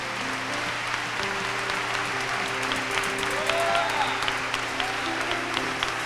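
Church congregation clapping for people at a service, a steady wash of applause under sustained organ or keyboard music and voices, moderately distant.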